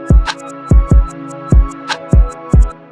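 Reversed sample of open hat, hi-hat, rim and high-pitched piano in a hip-hop beat, repeated swelling hits that build and snap off, with deep booming kick-like lows, loud and rhythmic with no voices.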